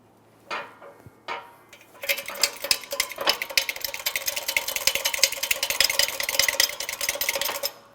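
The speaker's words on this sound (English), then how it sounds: "Let's continue on with driving the wheel bearing out and through the center area here." A workshop press forces a front wheel bearing out of a 2008-2017 Mitsubishi Lancer hub, with a couple of sharp metallic knocks followed by dense, continuous creaking and ticking metal strain, close and fairly loud.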